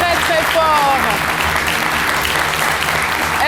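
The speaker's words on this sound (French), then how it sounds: "je vous demande de l'applaudir très très fort" A television studio audience applauds a guest on an Ivorian midday variety show, loud continuous clapping with voices and music underneath.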